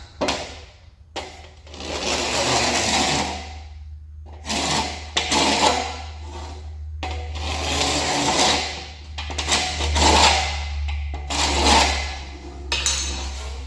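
A chamfering tool grinds along the edge of an aluminum fuel tank piece in repeated harsh scraping passes of a second or two each, broken by short pauses, over a steady low hum.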